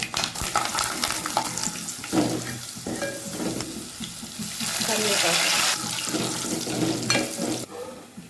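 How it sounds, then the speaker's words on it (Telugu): Cumin, mustard seeds, dried red chillies and garlic cloves crackle and sizzle in hot oil for a tempering, with stirring clatter throughout and bursts of louder spitting midway. "ఆయిల్ వేడిన తర్వాత జీలకర్ర ఆవాలు ఎండుమిర్చి వెల్లుల్లి రెబ్బలు"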